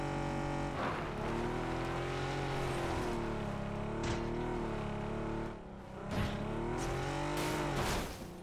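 A vehicle in the PUBG video game drives along, its engine droning steadily with rising and falling revs, close and fairly loud, briefly dipping near the middle before surging again.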